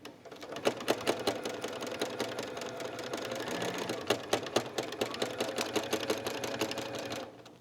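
A sewing machine stitches a fabric applique with a size 70 needle, a rapid, even mechanical chatter close up that runs in steady bursts for several seconds, then stops.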